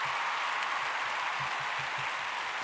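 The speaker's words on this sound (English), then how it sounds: "waiting on the applause to stop" Studio audience at a live television talk show applauding, a steady dense wash of clapping that holds at an even level throughout.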